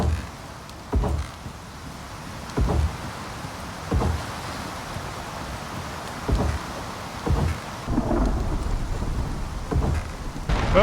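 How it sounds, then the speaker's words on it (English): A rain and thunder storm in the survival video game Icarus, with a steady wash of rain broken by repeated heavy booming rumbles that come every second or so. "we have our first storm and our first damage to our building"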